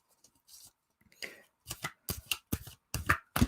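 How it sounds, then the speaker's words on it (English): Large oracle cards being shuffled in short riffling bursts, several quick rustling flutters one after another, close and fairly crisp, with no talking. "Yeah, they're very difficult to shuffle."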